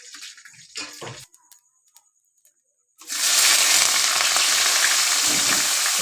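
Chicken for biryani fries in a pan. A few utensil clatters and knocks come first, then a brief pause, then a loud, continuous sizzle of hot oil that fills the rest.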